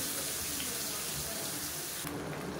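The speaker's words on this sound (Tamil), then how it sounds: "இப்போ மிக்ஸியை அலசிட்டு கொஞ்சமாக தண்ணி சேர்த்துக்கிறேன்." Water runs steadily from a kitchen tap while a mixer grinder jar is rinsed during home cooking, a close, continuous splashing flow with a slight change in tone near the end.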